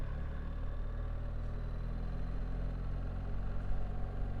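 A 2025 BMW R1300GSA motorcycle with automated gearbox, in drive and carrying a pillion, runs with a steady low engine hum and rumble, moderately loud with no voices.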